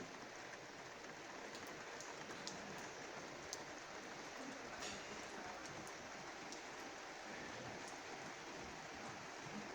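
Steady rain falls in Manhuaçu, in the Zona da Mata of Minas Gerais, a soft, continuous wash of drops on surfaces with faint, scattered distinct drips and no voices.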